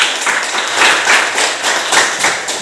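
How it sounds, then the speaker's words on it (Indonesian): A classroom of students claps together for a classmate during a Christian religious education lesson, a dense, steady burst of many hands applauding at close range with no talk over it. "Tepuk tangan dulu."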